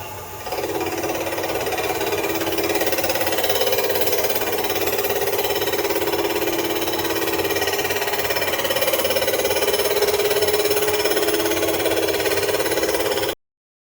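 A machine cuts a high-compression cylinder head in one continuous, loud grinding whir that holds steady for about thirteen seconds, then stops abruptly.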